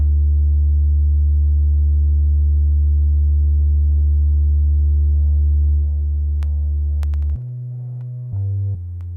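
A deep, steady synth bass sine wave with effects hums loudly, then shifts pitch a couple of times near the end with a few faint clicks.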